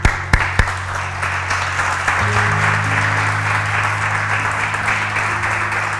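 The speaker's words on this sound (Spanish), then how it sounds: "Quiero que le den un aplauso a eso." A church congregation breaks into applause after a sermon, a few sharp claps at first followed by sustained, fairly loud clapping from many people, with a steady tonal hum underneath.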